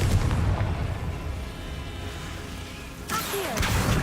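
A Confringo fire spell detonates in Hogwarts Legacy, with a heavy booming blast that rumbles and decays, followed by a second sharp burst and whooshing magical effects near the end.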